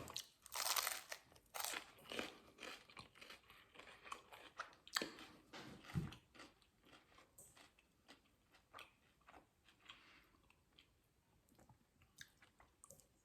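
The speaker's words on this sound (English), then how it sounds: "Listen to this crunch." Warm, fresh-baked focaccia straight off the cooling rack is bitten and chewed, giving a loud crackling crunch up close followed by a run of smaller crisp chewing crunches that fade slightly toward the end, with no talking.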